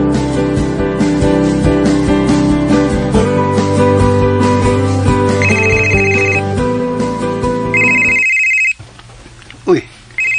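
A cellphone ringtone chirps in repeated bursts over music playing in a drama scene, then gives way to a short pause and a few murmured sounds.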